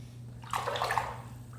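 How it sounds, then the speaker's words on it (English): Running tap water splashes steadily while a Gillette Mach 3 razor is rinsed during a head shave, a soft close hiss swelling briefly in the middle over a low hum. "I'm going to try to rinse this razor more frequently so it is more effective in shaving that hair"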